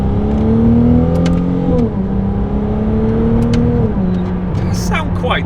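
Ferrari 296 GTB engine accelerating through the gears, a loud steady drone that rises in pitch, drops at each shift and climbs again, heard from inside the car with a brief faint chirp near the end.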